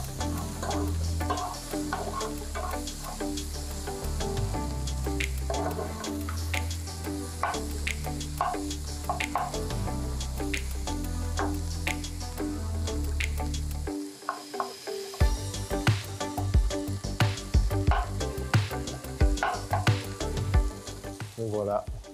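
Garlic frying in a little oil in a pan, giving a loud, continuous close sizzle with crackling pops and occasional stirring scrapes throughout, briefly dipping before resuming.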